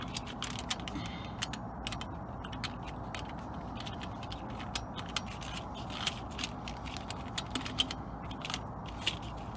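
An air fitting is tightened down by hand, just snugged rather than cranked: close ticking and creaking clicks from the threads and wrench over a steady background hiss, with no voices.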